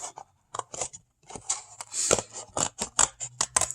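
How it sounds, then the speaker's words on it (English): Scissors snip through paper while a paper doll is cut out, giving a close run of short, crisp cuts in quick irregular bursts with brief pauses between them. "So just start cutting her out, cut forward, and turn your paper."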